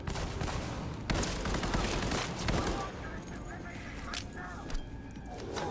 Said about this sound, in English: Many more bullets. Oh, we have grenades. Some grenade action.